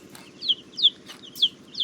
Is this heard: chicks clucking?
yes